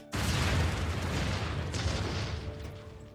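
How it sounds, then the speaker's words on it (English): A sudden movie explosion in a quiet room bursts in as a loud, broad roar after a brief silence, then rumbles and slowly decays over about three seconds. "a sudden explosion shatters the tranquility of the room"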